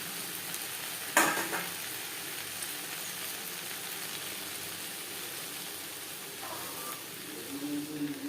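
Okra fries dry in a pan as it is stirred, a steady low sizzle throughout with a sharp scrape of the spoon early on and a few softer stirring sounds near the end.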